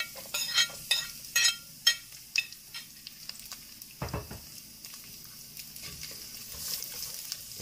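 Garlic sizzles and pops in leftover oil in a home kitchen while rutabagas are prepared Southern style, with sharp utensil scrapes and taps early on and a steady soft frying hiss underneath.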